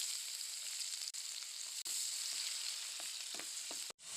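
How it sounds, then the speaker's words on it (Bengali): Onion frying in oil for a pangas fish curry, a steady dense sizzle close by, broken by a few brief gaps and soft stirring knocks near the end. "আমি পেঁয়াজটা দিয়ে হালকা করে ভাজা করে নেব।"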